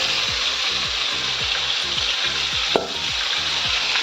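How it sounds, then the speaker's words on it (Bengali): Fish fries in a pan with a steady, close hiss and sizzle, with small regular pops and crackles throughout and no voices. "এই দেখো মাছ ভাজা করছে"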